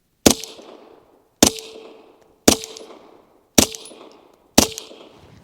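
A suppressed SAR9 SOCOM pistol fires five evenly spaced shots, each a sharp, close crack with a metallic action clack, followed by a short decaying ring, and nothing is said.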